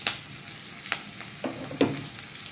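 Chopped onion frying in a pan for a sponge gourd and prawn dish, a steady close sizzle with a few stirring scrapes and clicks over it.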